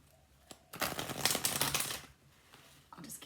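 A deck of Celtic Tarot cards being shuffled, one close riffling burst of flapping card edges lasting about a second, then a short softer shuffle after a pause.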